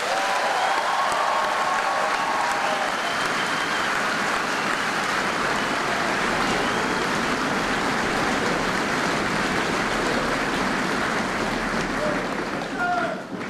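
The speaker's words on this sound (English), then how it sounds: "So please, another round of applause for our drill sergeants" A large crowd at an Army basic combat training graduation at Fort Jackson, South Carolina, applauds the drill sergeants, a loud, continuous roar of clapping sustained evenly from start to finish, with a few voices faintly mixed in.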